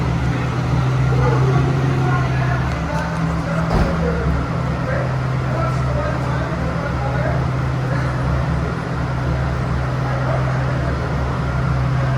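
A Nissan 350Z engine idles high, around 1,000 RPM, with a vacuum leak, steadily nearby, a constant low hum that never changes pitch or pauses.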